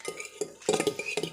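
A spoon stirs a batter of flour and baking powder in a bowl, giving a few quick scraping and clinking strokes in an uneven rhythm, close and fairly loud, with no talk.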